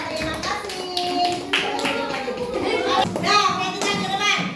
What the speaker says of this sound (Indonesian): Kita tepuk tangan buat kelompok Paula.